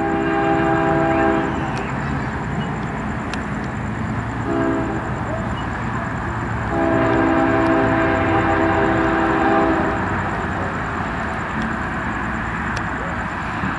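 A BNSF ES44AC locomotive leading a grain train sounds its horn in long chords over the steady rumble of the passing train, loud and close, with a brief break mid-clip before the horn resumes.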